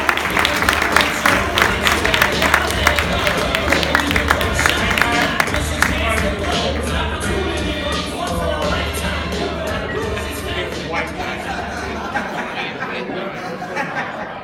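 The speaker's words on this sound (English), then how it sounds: "Give a round of applause for Mr. Parker Brown." Comedy club audience applauding a comedian's set, with sustained clapping, cheering and chatter mixed with some laughter and talking, fading slightly near the end.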